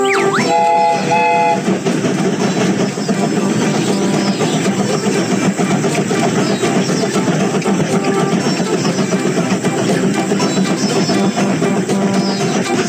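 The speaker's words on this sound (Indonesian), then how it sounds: "Kereta ini akan segera berangkat." A cartoon train sets off with a brief whistle at the start, then rolls along the tracks in a loud, continuous rumble with clickety-clack under it.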